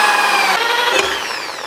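A power drill with a larger bit bores a hole for a pit/dirt bike seat handle on an Apollo RFZ, a loud, close, steady whine that shifts slightly in pitch and then tails off.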